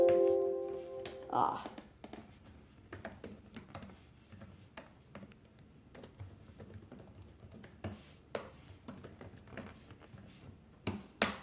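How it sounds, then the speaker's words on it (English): Typing on a computer keyboard gives irregular bursts of close, crisp key clicks. A brief electronic tone comes first, and a voice is audible. "let me just type this in"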